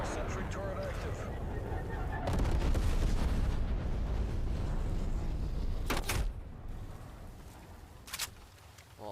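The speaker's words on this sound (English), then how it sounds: "Napalm strike inbound." Napalm strike and gunfire in Call of Duty Cold War, a loud rumbling roar with scattered sharp cracks, under a player's talk, fading toward the end.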